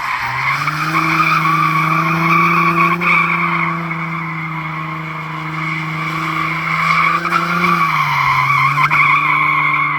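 A Nissan 350Z with a welded differential drifts, its tires squealing in a loud, sustained, wavering screech that shifts pitch slightly near the end.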